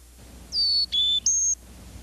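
Three clear, loud whistled chickadee calls in quick succession, each a pure sustained tone with the pitch shifting between notes, set against a quiet background.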